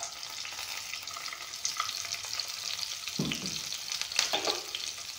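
Onion, green chili, ginger and garlic sizzle steadily in hot oil in a pan, a continuous close frying hiss with a brief scrape or stir partway through and no talking.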